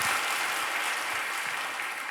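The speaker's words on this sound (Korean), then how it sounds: "하나님께 큰 박수 올려드리겠습니다." A church congregation at a revival meeting claps together, a dense, even wash of applause sustained throughout, fairly soft and distant.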